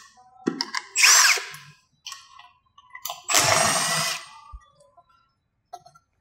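A power driver spins out T30 bolts from the roof rack on a Ford Bronco 2-door, two short whirring bursts close by, separated by clicks and handling noises, with no talk.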